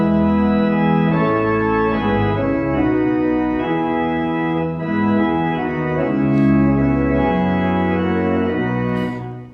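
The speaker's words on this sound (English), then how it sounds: "our setting written by Dr. Verinder of Psalm 121" Slow, hymn-like setting of Psalm 121 played on a synagogue pipe organ, sustained chords moving steadily and filling the space at an even, full volume throughout, with no voices.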